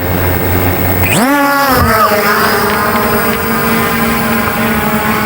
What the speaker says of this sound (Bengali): আমরা এখন ড্রোনটাকে পুরোপুরি নামাবো না